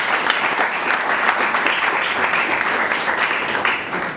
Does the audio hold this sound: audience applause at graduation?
yes